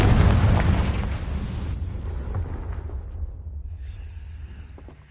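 Confringo fire spell exploding in the Hogwarts Legacy video game, a loud deep boom at once that rumbles and fades steadily over several seconds, with no speech.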